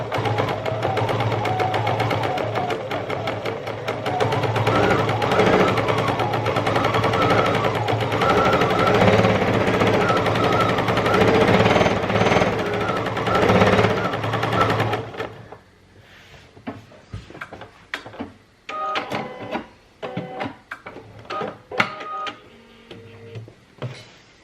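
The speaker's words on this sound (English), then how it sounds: "me learning to use the BSR in the sewing machine" A home sewing machine stitches using the BSR stitch regulator, with a close, loud mechanical whirr and rapid needle clatter for about fifteen seconds, then stopping into scattered clicks, thumps and handling noises.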